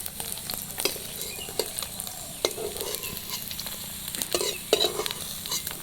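Small pabda fish fry in a pan with a steady, moderately loud sizzle and crackle, broken by irregular sharp taps and scrapes as the pieces are stirred and turned.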